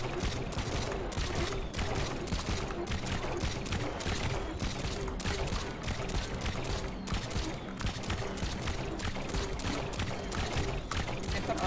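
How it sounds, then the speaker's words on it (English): Rapid-fire weapons on battle boats in Trailmakers pour out a dense, continuous barrage of quick gunshot bursts, loud and sustained throughout with little let-up. "Now you're gonna see my rapid fire weapons."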